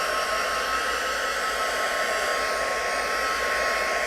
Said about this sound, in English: just going to speed it along with the heat tool